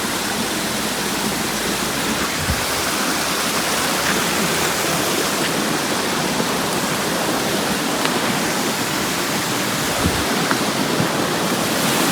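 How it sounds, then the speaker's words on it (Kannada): Stream water flows steadily through a forest, a continuous broadband rush like a small waterfall that holds even and close for the whole stretch with no voices. "ಅದು ಆ ಕಡೆ ಹರಿತಿದ್ದ ನೀರು, ಇದು ಈ ಕಡೆ ಹರಿತಿದ್ದ ನೀರು"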